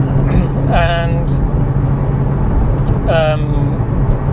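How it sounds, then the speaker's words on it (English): A Porsche 996 drives on the road with a low, steady engine and road rumble under close talking, while a couple of rising engine or gearbox whines come and go. "so I just thought I'd take it out for a drive"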